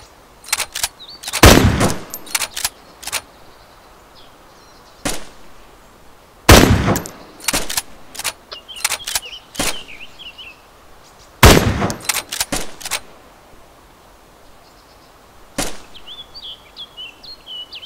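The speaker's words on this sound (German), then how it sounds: "AK-Schüsse." AK rifle shots in DayZ ring out in separate bursts of several sharp, loud cracks, with quiet gaps and faint bird chirps between volleys.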